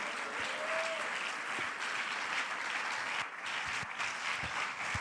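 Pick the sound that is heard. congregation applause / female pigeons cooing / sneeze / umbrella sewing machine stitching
congregation applause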